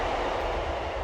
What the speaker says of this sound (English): There's a train going by.